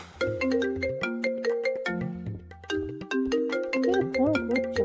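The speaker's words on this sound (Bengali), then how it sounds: "ফোন করছে বারবার" A mobile phone ringtone plays a bright, melodic tune of repeating electronic notes, close and loud, looping through several phrases with no talk over it.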